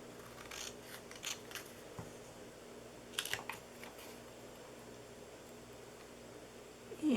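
Scissors snip through stamped paper as a shape is cut out for a handmade fall box, giving a few short, crisp cuts that come close to the mic with quiet pauses in between and no voices.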